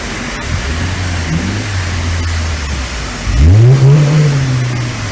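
Peugeot 306 GTR engine revving, a short rise in revs and then a louder, sharp rev climbing and holding, heard up close against a noisy background.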